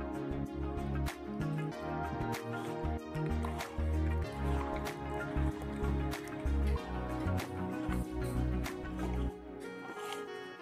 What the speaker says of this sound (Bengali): ভালো করে ধুয়েছি, আর একটু লেবু দিয়ে চটকে রেখে আমি ধোবো।